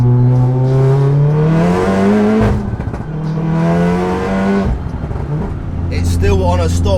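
A tuned 700hp VW Golf R engine on stock ECU revs hard on a pull from about 3,000 RPM, loud and close, its droning harmonic note climbing twice with a brief drop between, a voice talking over it.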